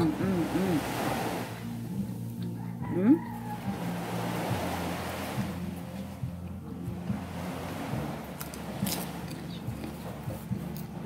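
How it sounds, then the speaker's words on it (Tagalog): Ocean waves wash and roll in steady surges, with voices talking faintly underneath. "may alon."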